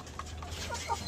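Chickens on a small, humble farm give a few soft, brief clucks over a steady low background hum, heard close by with no talking.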